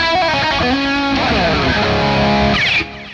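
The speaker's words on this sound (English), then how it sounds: "adding in some palm muting onto the hammer-ons" Electric guitar playing a fast phrase that mixes palm-muted hammer-ons with picked notes, loud and close with a distorted tone, played alone.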